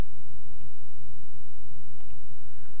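Two quick pairs of sharp mouse clicks while working in Maya, crisp and close over a low steady hum, the second pair about one and a half seconds after the first.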